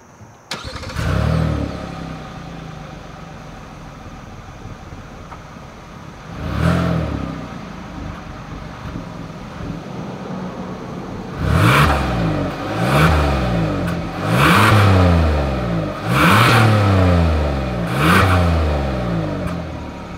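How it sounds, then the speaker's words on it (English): A 2021 Hyundai Palisade fires up from its exhaust, settles briefly, gives one short blip, then snaps through a series of five or six sharp rev bursts that each fall back toward idle, loud and close with no talking. "As always, here is that exhaust clip."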